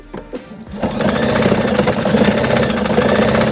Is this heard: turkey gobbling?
no